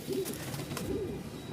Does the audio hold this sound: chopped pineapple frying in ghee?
no